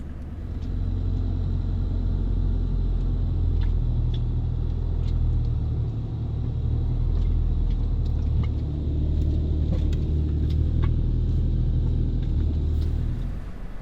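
A 4WD on Fraser Island idles slowly across, its engine giving a steady low rumble with faint clicks and knocks over about fourteen seconds.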